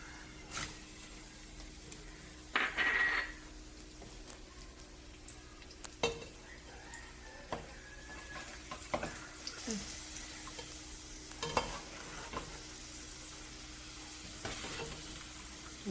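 Cashews, raisins and onions sizzle in hot oil for dum chicken biryani, a soft steady frying hiss broken by scattered clinks of a spoon against the pan, with someone talking over it.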